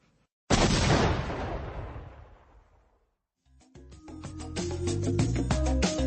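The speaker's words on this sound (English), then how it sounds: "Love hearing that explosion." A single loud, close explosion booms and slowly rumbles away, followed after a short silence by a burst of music.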